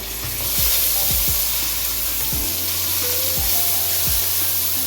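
Chopped tomato with salt, red chilli powder and turmeric fries over garlic and ginger in a pan for chicken tikka karahi, a loud, steady sizzle broken by several low thuds of a spoon stirring the mixture.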